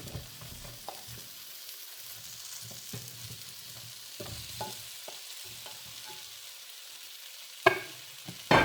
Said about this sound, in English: And you want to pop your potatoes into the pan